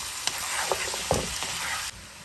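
Potatoes stir-fried in a pan with coriander powder, asafoetida and salt, sizzling steadily with a few sharp scrapes and clinks of a spoon against the pan, close by with no talk.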